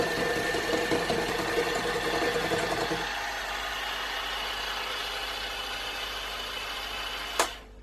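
An electric hand mixer whirs steadily through cookie batter just after vanilla extract goes in, a continuous close motor drone that drops in pitch partway through and cuts off near the end.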